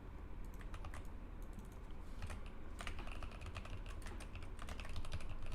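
Typing on a computer keyboard during a Scratch coding session, soft clustered key clicks in irregular bursts over a steady background hiss.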